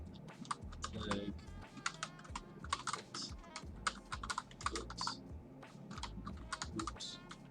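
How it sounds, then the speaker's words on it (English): Typing on a computer keyboard while working in Spring Boot, with rapid irregular clicks and clacks of keys, close and crisp, coming in uneven bursts with brief pauses. "I don't know what I'm typing yet."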